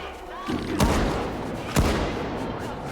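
Two sharp, loud gunshot blasts about a second apart ring out over a rumbling game background in S.T.A.L.K.E.R. 2, fired at a dog-like creature.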